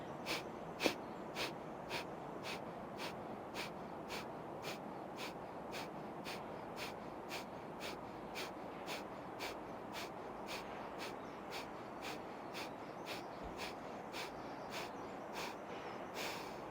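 Rapid rhythmic breath of fire breathing exercise: a steady train of quick, sharp nasal exhalations, roughly two per second, repeating evenly and close up for the whole stretch, with no talking.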